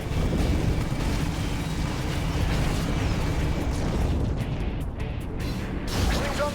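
A rocket explodes on the Halo Wars battlefield with a Scarab nearby, releasing a long, roaring rumble of blast noise that holds for several seconds and then briefly swells again near the end.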